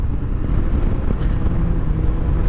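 A BMW C400X scooter is ridden at full throttle, its engine giving a loud, steady roar mixed with rushing wind noise that holds without break.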